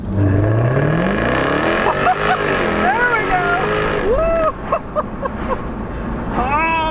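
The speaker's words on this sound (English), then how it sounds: "let's turn down onto this back road here and see how it accelerates." A 2018 Jaguar F-Type R Convertible accelerating hard in dynamic mode on a back road, its engine note rising through several gears with shift breaks, loud and close throughout, with a voice talking over parts of the run.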